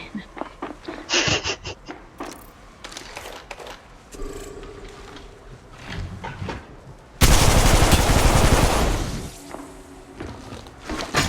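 Gunfire in Apex Legends Mobile: sharp single shots and short bursts, then a loud sustained volley, with excited voices talking over the action.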